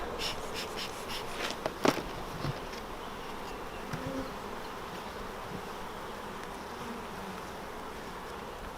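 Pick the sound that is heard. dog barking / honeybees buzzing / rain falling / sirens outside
honeybees buzzing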